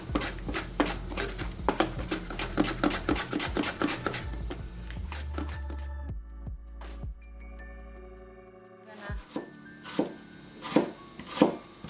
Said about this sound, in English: now I want thin slices out of these.